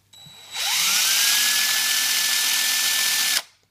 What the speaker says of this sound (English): Now all I'm going to do to clean this out, I'm going to take my drill